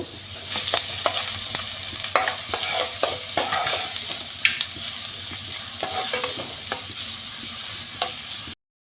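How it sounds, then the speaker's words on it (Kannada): Onions frying in hot oil in a pan while being stirred, a steady close sizzle broken by repeated scraping strokes of a spoon throughout, with no talking. "ಎಣ್ಣೆ ಬಿಸಿಯಾಗಿದೆ ಇದಕ್ಕೆ ಈಗ ಈರುಳ್ಳಿ ಹಾಕುವ ಈರುಳ್ಳಿ ಚೆನ್ನಾಗಿ ಕಂದು ಬಣ್ಣ ಬರೋವರೆಗೆ ಹುರಿಬೇಕು"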